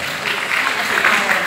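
A crowd at a comedy MC's touring show in Surabaya breaks into loud, dense applause, a brief burst of clapping mixed with voices.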